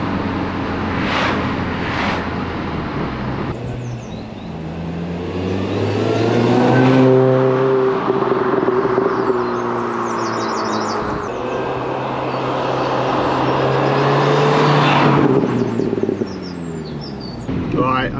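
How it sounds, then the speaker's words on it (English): A supercharged Mini accelerates through gears from inside the cabin, the engine rising in pitch with each pull and a steady supercharger whine over road noise, and a voice speaks over it. "I don't know if you can hear that supercharger."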